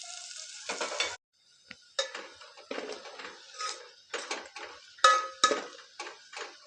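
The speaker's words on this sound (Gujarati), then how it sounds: "હવે આ ડુંગળીને આપણે થોડીક લાલ થવા દેશું।" Chopped onions frying in a pan for Gujarati soya vadi curry, with a spoon stirring and scraping against the pan in repeated rough strokes and a light sizzle between them. No one talks.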